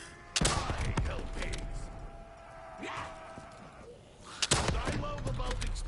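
Sharp explosions in Call of Duty: Black Ops 3 burst out twice, each a loud pop followed by crackling debris, with a lower rumble and mechanical noise between them.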